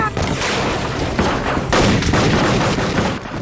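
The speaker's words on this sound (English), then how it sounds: "The driver fired a shotgun blast at Grogan" A shotgun blast fired in a gunfight, part of a loud, dense burst of gunfire and booming shots close by, filling the whole stretch without pause.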